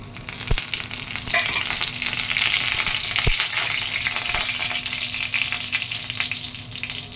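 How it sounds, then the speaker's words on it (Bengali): Mustard seeds frying in about a spoonful of oil for a hog plum chutney, a loud, steady crackling sizzle close by with a few sharp pops and knocks, no talking. "এর মধ্যে আমি সামান্য তেল দিচ্ছি, খুব সামান্য, বেশি নয়, 1 চামচির মতো। এর মধ্যে আমি সর্ষে দিয়ে দিচ্ছি।"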